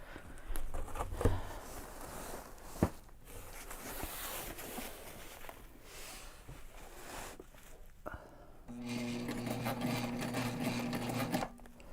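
A sewing machine stitches through a backpack, its motor whirring in uneven runs, then settling into a steadier, louder stretch before stopping. The machine is heard up close and alone, with no voices.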